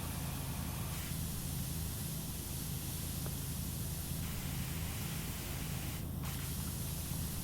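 A pressure washer sprayer in the game PowerWash Simulator gives off a steady, loud hiss of spray that runs unbroken the whole time, with only slight shifts in tone.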